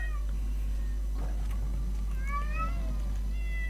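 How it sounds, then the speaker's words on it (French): A cat meowing in Minecraft, several rising-and-falling meows, clear and close over a constant low hum and quiet background sound. "Ça miaoute, hein?"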